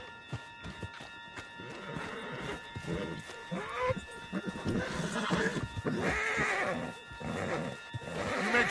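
Horse whinnies and hoofbeats from the Red Dead Redemption video game, a horse neighing mid-distance amid game sounds and someone talking, with galloping footfalls building toward the end.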